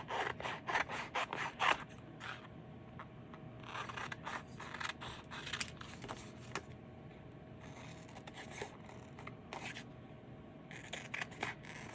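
Scissors snip out paper transfer pieces for a DIY craft, a close run of crisp cuts and paper rustles in bursts with short pauses, no talking.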